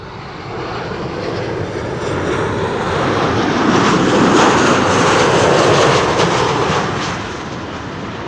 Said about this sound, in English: Ryan Air Flight 3100 arriving from Dublin,